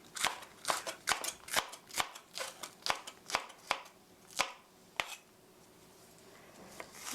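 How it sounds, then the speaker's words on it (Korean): A knife slices vegetables into thin rounds on a cutting board for pear fried rice, giving about a dozen crisp, evenly spaced chops that stop after five seconds and leave quiet room tone. "이렇게 송송송 동글동글 이렇게 썰어 주시고요."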